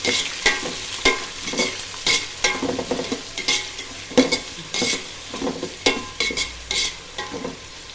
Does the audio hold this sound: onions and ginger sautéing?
yes